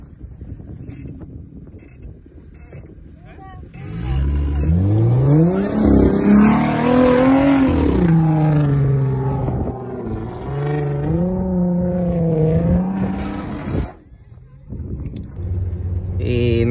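A stuck car's engine revs hard and holds at high pitch for several seconds, with wind buffeting the microphone, on a trip to Bellavista after the vehicle broke down.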